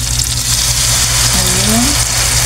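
Soy sauce hits frying bangus steak with onion in a hot pan, a loud continuous sizzle and crackle, with a voice briefly speaking over it.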